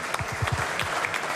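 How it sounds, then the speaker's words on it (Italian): Audience at a live Italian TV morning show clapping together, a short burst of applause that fades quickly. "Un grande applauso a Lisa"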